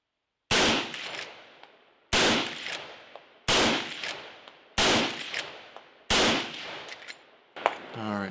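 Five loud, sharp rifle shots firing Xtreme 150gr flat-point 30-30 bullets, spaced evenly about a second and a half apart, each with a ringing decay, then a metallic action clatter at the end.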